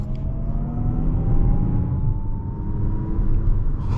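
Inside the cabin of a Lexus RZ450e electric car under acceleration, a low road rumble and tire roar carry a faint rising electric whine, steady and moderately loud throughout.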